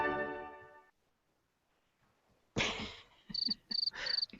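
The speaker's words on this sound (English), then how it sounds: "Crickets." Crickets chirping as an inserted sound effect, a brief burst of rhythmic, high, pulsing chirps following a short stretch of near silence.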